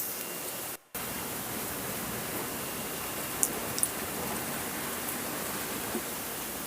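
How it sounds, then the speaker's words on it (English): Rain falls steadily outside as an even, hissing wash of noise, with a brief dropout near the start and a few faint clicks. "It's just been raining. It's raining a lot"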